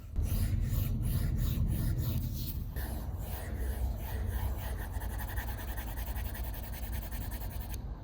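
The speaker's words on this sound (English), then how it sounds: "let me give you a little audio sample here of what it sounds like when you're writing" Pen stylus scratching and rubbing across the matte screen of a TCL NXTPAPER (Note A1) tablet while writing, a steady close raspy friction with short strokes that runs continuously without talk.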